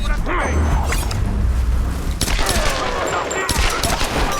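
Rapid gunfire bursts from the Tomb Raider video game, loud and continuous, with sharp shot transients and mechanical clatter throughout, a dense fusillade that intensifies in the second half.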